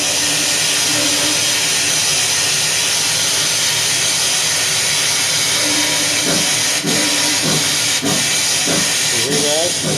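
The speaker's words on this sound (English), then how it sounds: "you can hear the piston blowout work with the cylinder cocks" A Kato sound box simulating a steam locomotive gives a loud, continuous hiss of cylinder cocks blowing out, with rhythmic chuffing pulses building in the second half, close and alone.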